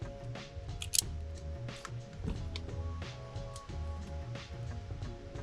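Grey and grey-and-white wires having their insulation stripped during an install on a Toyota Landcruiser 1HD-FTE, giving short close snipping and pulling clicks over a steady low hum.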